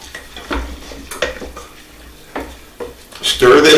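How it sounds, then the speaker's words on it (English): A spoon stirs a thick au gratin potato mixture in a pot, giving soft scraping and wet squelching strokes at an uneven pace, with a louder clatter of utensil against cookware at the end. "Stir this in nicely."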